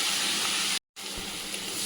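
Onions frying with garlic in a pan, a steady broad sizzling hiss close by, briefly cut off for a moment before resuming at the same level.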